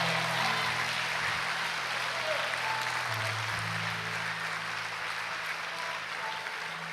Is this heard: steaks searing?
no